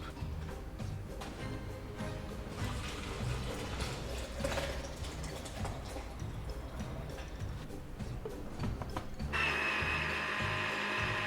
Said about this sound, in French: Il ne vous reste plus qu'à mixer votre soupe.